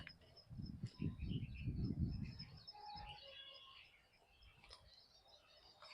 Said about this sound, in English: there are so many birds chirping as well